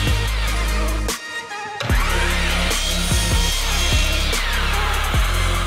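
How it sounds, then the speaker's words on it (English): Miter saw chopping small pieces of wood to random lengths, with a steady motor whine interrupted once by a short pause, then a series of quick, sharp cuts biting through the wood nearby. "I'm just gonna go over to the chop saw now. Well, it's a miter saw, but I call it chop saw."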